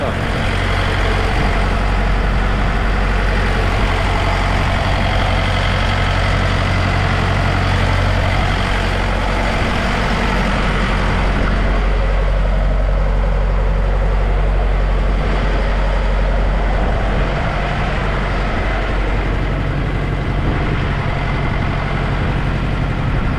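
A heavy diesel engine of a Massey Ferguson tractor idles steadily with a deep low rumble, continuous throughout, with faint background clatter and no clear speech.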